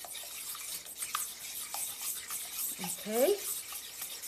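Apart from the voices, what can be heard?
stirring mixture with a small whisk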